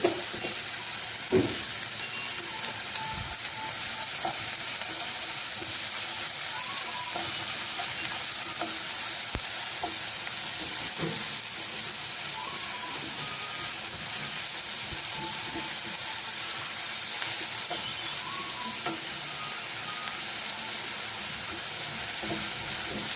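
Sliced onions sauté in a hot pan, a steady loud sizzle and hiss over the whole stretch, with occasional stirring scrapes and clicks from a spoon and no talking.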